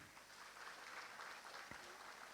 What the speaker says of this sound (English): Please welcome our speakers with round of applause